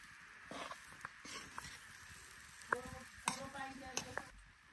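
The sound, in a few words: grandmother roasting finger millet flour in a pan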